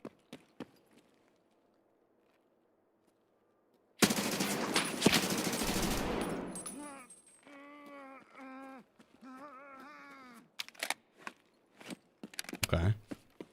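Unsuppressed gunfire in the shooter game Escape from Tarkov: after quiet, a dense loud burst of rapid shots for a few seconds, followed by scattered clicks, thumps and later sharp single reports.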